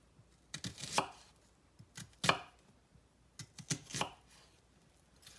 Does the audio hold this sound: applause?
no